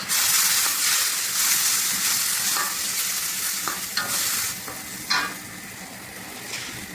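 Tomato paste stirred into sizzling bottle gourd and shrimps in a pan, a loud close hiss of frying with scraping stir strokes that eases off slightly toward the end, no talking.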